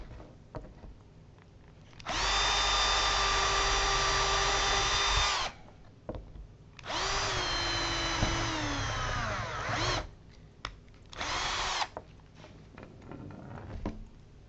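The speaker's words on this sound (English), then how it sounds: "marks for where I'm going to drill the hole" An electric drill drilling a hole whirs in three bursts, two long and one short, spinning up and winding down between them, close by, with small handling noises in the pauses.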